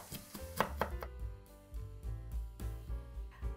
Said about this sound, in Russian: нарубим орешков